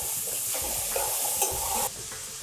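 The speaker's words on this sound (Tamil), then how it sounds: "நல்லா வறுத்துக்கலாம்" Constant close sizzling hiss from a hot pan of brinji rice ingredients with double beans frying, broken by scraping stirs, the sizzle easing slightly toward the end.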